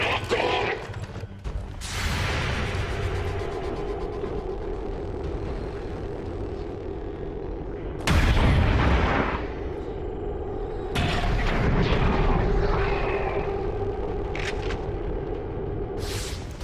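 Shotguns fire during a turn-based combat mission in XCOM 2: several sharp, loud blasts about every few seconds over a low game ambience.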